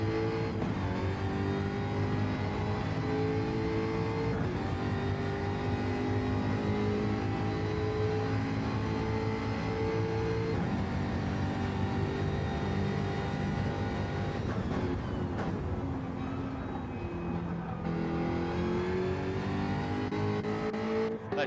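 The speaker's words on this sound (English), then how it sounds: "That Jaguar sounds absolutely fantastic." A Jaguar GT3 race car in a racing game holds a loud, steady engine note, revving through several gear changes with rising and falling pitch, heard alone without talk.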